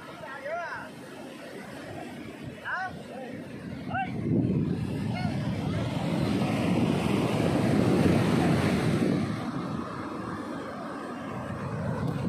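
Ocean waves wash onto a beach in a steady, broad roar that swells louder midway, with gusts of wind buffeting the microphone and faint voices of children underneath.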